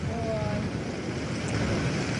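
Strong wind with rain roars steadily across the microphone in a dense, continuous rush at a women's golf tournament in Scotland, with a voice faintly underneath.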